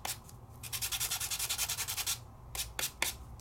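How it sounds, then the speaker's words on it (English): A blending pencil is sharpened by rubbing on a sandpaper pad, giving a rapid series of close, rhythmic scratchy strokes, then a pause and a few more separate rubs. "So I'm sharpening off that blue color so that I can use it with another color and not cross-contaminate."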